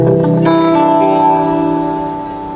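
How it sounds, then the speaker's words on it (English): An electric guitar plays a sustained, ringing chord through a Vox Nutube amp with the gain raised for harmonic distortion, loud and close, slowly fading with a touch of reverb. "Now if I bring up that gain a little bit, I'm gonna get some nice harmonic distortion from the"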